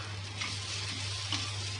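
Fried okra is stirred into spices in a pan, giving a brief, soft, steady sizzle with a couple of faint scraping stirs.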